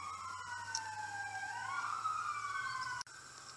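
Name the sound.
ambulance siren passing outside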